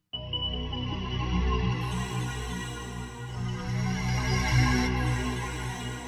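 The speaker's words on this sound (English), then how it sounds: "Find weird alien sounds like this." An eerie, alien-sounding synth preset in FL Studio, a dense, sustained tone that holds steady and warbles throughout.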